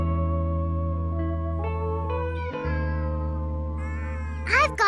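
Several cartoon cats meow in a sustained, layered chorus of tonal cries that shift pitch over a steady droning bed, ending in a louder rising wail.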